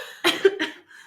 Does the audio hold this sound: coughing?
yes